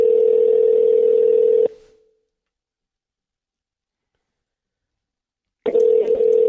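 A telephone dial tone hums steadily and loud, cuts off into nearly two seconds of silence, then returns with small clicks, all while calling in on a radio phone line.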